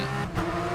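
Porsche 911 GT3 Cup race car driven on track in rFactor 2, its engine note steady and loud through a short burst with a brief dip, no voices.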